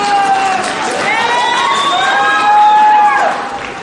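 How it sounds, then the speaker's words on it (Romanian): A loud, close crowd at a school freshman ball cheers and whoops continuously with some applause, with high children's voices shouting over the din for nearly four seconds. "Aplauze!"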